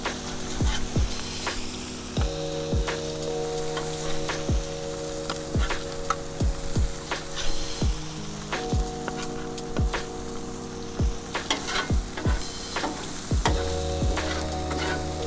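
Smash burgers sizzle on a Blackstone griddle, a continuous crackle punctuated by repeated sharp metal spatula scrapes and taps, close and fairly loud, with music playing underneath and nobody speaking.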